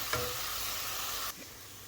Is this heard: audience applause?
no